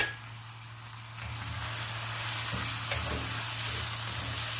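Tomatoes go into a sizzling pan of mutton liver masala with cinnamon, black cardamom and cloves, a close, steady frying hiss that swells after a second and continues with light stirring scrapes.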